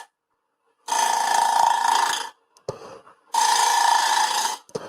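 A wood lathe turns face-grain wood at 1600 RPM as a tool cuts, giving two loud, sustained scraping bursts with a short, quieter rasp between them.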